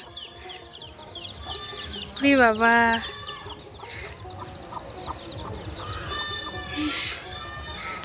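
Small chickens cluck outdoors on a village path at dusk, with a few bursts of calls standing out over a busy rural background and occasional nearby talk.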